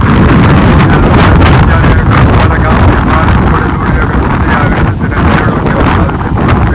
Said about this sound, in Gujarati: પવન છે એટલો બધો જોરથી ફૂંકાય છે